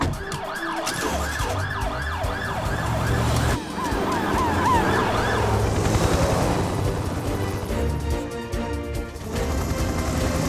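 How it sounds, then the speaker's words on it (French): A cartoon mountain rescue ambulance from Fireman Sam wails its siren loudly and continuously in rising and falling tones over a busy animated soundtrack, with engine and background effects mixed in. "Hélène, suis-la avec l'ambulance des secours en montagne."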